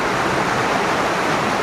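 A creek waterfall on Vancouver Island pours steadily, a dense, continuous rushing roar of falling water heard close and loud, with no voices.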